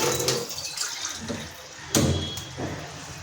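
Water is poured into a cooking pan holding lentils and onion with a splashing hiss, broken by a couple of sharp clanks.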